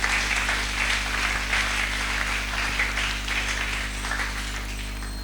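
A congregation at a Sunday church service applauds the Lord with steady, fairly dense clapping lasting several seconds over a constant low electrical hum.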